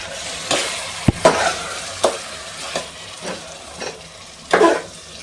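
Chicken is stirred with a ground masala paste in a pan. A sizzle runs under irregular scrapes and knocks of the spoon against the metal, with a few louder strokes, close and without speech.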